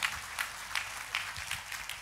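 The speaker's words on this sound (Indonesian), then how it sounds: "Tepuk tangannya pula yang paling meriah buat Tuhan kita." Steady, moderately faint applause fills a church service as the congregation claps together, a continuous wash of hand claps with rhythmic peaks and no voices over it.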